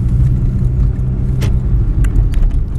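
A car passes along a quiet town street during lockdown, a close, loud rolling rumble of engine and tyres with a few light clicks and rattles near the end.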